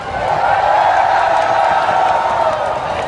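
A large crowd at an outdoor political rally in Bangkok cheers and applauds, a steady, loud wash of clapping and whooping voices holding for the whole stretch without pause.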